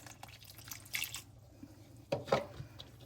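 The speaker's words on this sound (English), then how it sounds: "We're also going to add a cup of water." A cup of water is poured into a pot of white beans in sauce on the stove, making two short splashing gushes about a second apart amid faint kitchen clatter.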